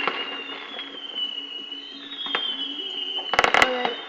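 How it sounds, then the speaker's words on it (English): An outdoor fireworks display with distant low booms and crackles under a steady high tone and crowd murmur, ending in a short burst of sharp close bangs. "Ooh, I love fireworks."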